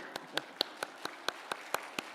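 Members of a church congregation at a revival service clap in slow, even unison, about nine distinct sharp claps spaced evenly, fairly quiet and without other voices.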